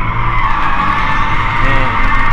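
Toyota 86 tires skidding while drifting on a track, a steady sustained squeal with engine drone underneath, held close and loud for the whole stretch, with a voice talking faintly at times.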